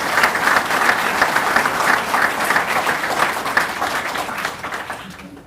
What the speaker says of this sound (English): May we please give them a big round of applause.